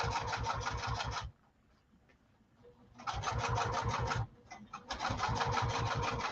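Sewing machine stitching lining fabric in three quick rhythmic bursts with short pauses between them, close-up, the needle chattering in a fast even pulse.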